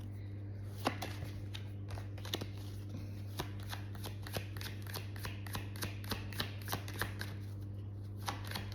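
Tarot cards being shuffled alone: a run of crisp, evenly spaced card snaps and riffles, close and clear over a low steady hum, with no talking.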